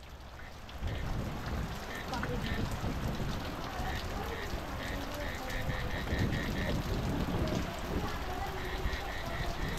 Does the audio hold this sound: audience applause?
no